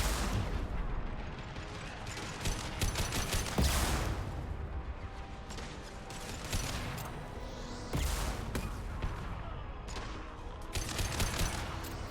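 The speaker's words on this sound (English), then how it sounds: "Firing an impact shot." Sustained video game gunfire in Mass Effect 2, rapid bursts of shots and heavier thumping impacts repeating over several seconds, with a few louder booms standing out amid the continuous crackle of the firefight.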